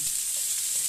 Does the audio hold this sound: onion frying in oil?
yes